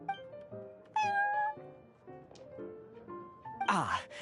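A cat in Genshin Impact, in the Cat's Tail shop, gives several distinct meows one after another, near and fairly loud, ending in a harsher, longer yowl.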